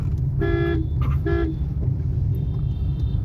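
A car horn gives two short, clear toots close by at a crossing, over the steady hum of road traffic in the rain.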